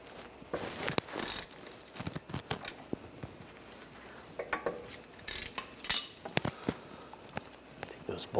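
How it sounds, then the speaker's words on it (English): Ratchet on a 14mm socket loosening the brake caliper bolts of a 2014–2023 Jeep Cherokee, quick faint clicking and clinks of tools in short bursts, close but quiet. "loosen up the two caliper bolts"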